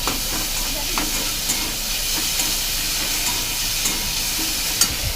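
Pointed gourd filling with the scooped-out gourd centres being sautéed in a pan for stuffed potol dorma: a steady, moderate sizzle and hiss with occasional soft stirring scrapes, no voices.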